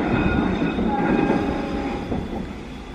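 A Galunggung passenger train rumbles along the rails nearby at Cipeundeuy, Indonesia, a steady loud roar with faint metallic squeals and clatter.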